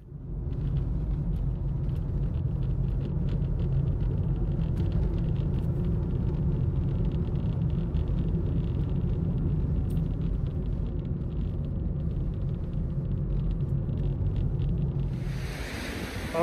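From inside a moving car on a drive toward Taupo Bay, a steady low road rumble and engine drone continues, with faint hiss above it and a brief change in tone near the end. No speech.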